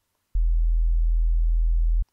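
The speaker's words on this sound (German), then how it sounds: "wie ihr den einfachsten Subbase ever hinbekommen. Der hört sich ungefähr so an." A simple sub bass synth from FL Studio's 3x Osc holds one pure, deep sine-like tone for about 1.7 seconds, steady and loud, with clicks at its start and stop and silence around it.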